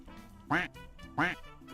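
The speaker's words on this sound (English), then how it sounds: "Quack! Put a duck in the pond." A cartoonish video game duck quacks twice, evenly spaced, each quack loud and close over a quiet background.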